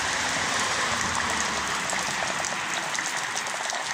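Heavy rain pours down outdoors as a dense, loud, unbroken hiss that stays close and constant throughout.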